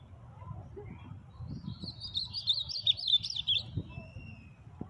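A young ultramarine grosbeak sings from a cage in a series of quick, bright, warbling phrases midway through, over a low background rumble.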